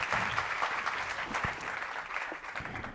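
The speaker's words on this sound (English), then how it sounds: "Round of applause." Lecture audience at a medical talk giving a round of applause, a soft, somewhat distant wash of steady clapping with a few sharper individual claps standing out.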